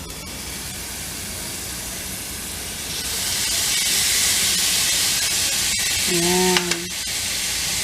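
Garlic oil sprayed onto chicken in a home kitchen, giving a steady loud hiss that swells midway and runs through most of the stretch, ending with a short voice just before it stops.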